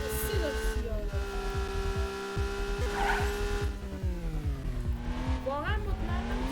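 A revving car engine in a browser video game hums and pulses steadily, with rising and falling whines and short squeals of skidding tires, loud and continuous throughout.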